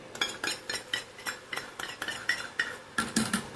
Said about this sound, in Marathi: चांगलं मिक्स करून घ्यायचं तर आपल्याला.